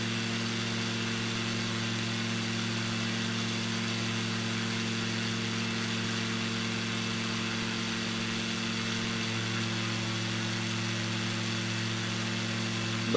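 Steady drone of a light aircraft engine in flight with the throttle eased back, a continuous even hum with strong low harmonics and wind noise, no talk.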